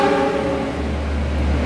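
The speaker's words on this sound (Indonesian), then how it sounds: "background suara kereta api yang sangat kedengaran ini ya" A train rumbles steadily nearby at a railway setting, a low continuous roar with humming tones, recorded through a phone's internal microphone.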